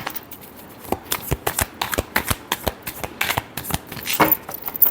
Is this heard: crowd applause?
no